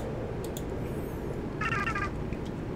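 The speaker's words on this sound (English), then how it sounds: "Cat. It's a cat!" A cat in the video game Bad Parenting gives one short, clear meow over a low ambient hum, with faint small sounds scattered around it.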